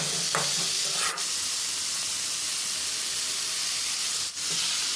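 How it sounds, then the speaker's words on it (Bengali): Potatoes and onions are fried and stirred in a pan, making a loud, steady hissing sizzle with a couple of brief scraping bumps, close by and without speech. "আলুটা দিয়ে 2 মিনিট এইভাবে নাড়াচাড়া করে ভেজে নেব।"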